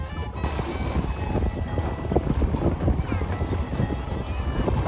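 A sailboat beating against strong wind under genoa and mizzen near Ibiza, with loud, continuous wind buffeting the microphone, rushing water and hull noise close by, and no clear talk.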